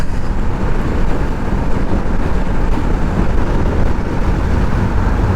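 A Bajaj Pulsar NS200 motorcycle at high speed with low engine oil, steady loud engine drone under heavy rushing wind noise, continuous throughout with no voices.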